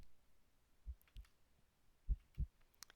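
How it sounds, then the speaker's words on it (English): A heartbeat in a horror video game: two pairs of deep, muffled lub-dub thumps, close and fairly soft, over a quiet background with a few faint clicks. "You feel like you can hear your heartbeat."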